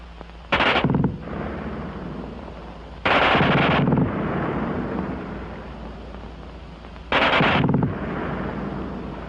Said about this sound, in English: Nobody but the replacement, who can't get over the fast burp of that German gun.